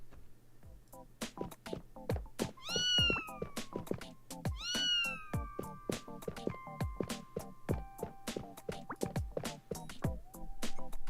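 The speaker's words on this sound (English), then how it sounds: "someone said they heard a cat crying around here" Cat meowing in the Blue Archive video game, two clear drawn-out meows near the start over a backdrop of plinking, dripping game music notes.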